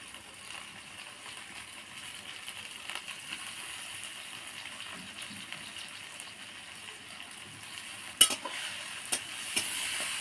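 Soaked lentils stir-fried in a pan, a faint steady sizzle with soft scraping stirs, broken by a sharp clatter near the end.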